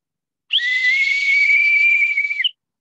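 A ball whistle with a small sphere rattling inside is blown once in a steady, loud, shrill tone lasting about two seconds, alone with no talking.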